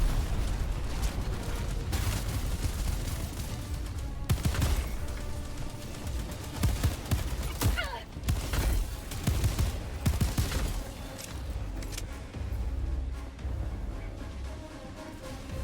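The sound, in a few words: machine gun fire from enemy machine gunners in Helldivers 2 video game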